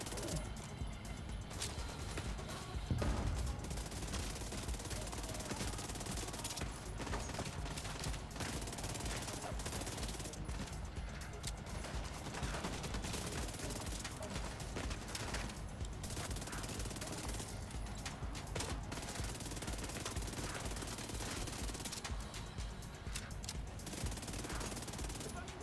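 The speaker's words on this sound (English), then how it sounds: "so it's a really good SMG" Continuous rapid SMG gunfire in The Division 2, dense and loud for nearly half a minute with brief gaps, under someone talking.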